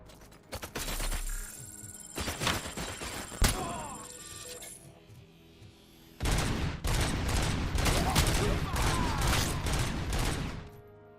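Mounted guns firing in a Robocop video game: scattered sharp shots and clanks at first, then a long, loud, sustained stretch of rapid automatic fire up close.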